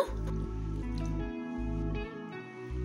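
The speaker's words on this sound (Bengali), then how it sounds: "দিয়ে দিলাম মেজারমেন্ট কাপে 1 কাপ জল" Water poured from a measuring cup into an oats and potato paratha mixture, a close wet pouring and dripping sound with a steady low tone breaking into short gaps.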